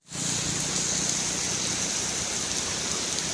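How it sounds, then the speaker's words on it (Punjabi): Heavy monsoon rain pours down in Punjab during the cool Sawan month, a loud, dense, unbroken hiss that starts abruptly and stays steady throughout. "ਮੀਂਹ ਬਹੁਤ ਪੈਣ ਲੱਗ ਗਿਆ"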